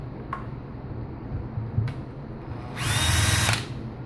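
A power screwdriver backing out the grip screws of an ARES airsoft AEG rifle, a short whirring burst of the motor after faint clicks and handling noises, close and alone.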